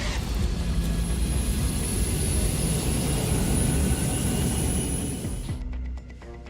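A Boeing 777 airliner touches down on a Dubai runway, its jet engines giving a loud, steady roar close by that holds for over five seconds before cutting away to a quieter tail.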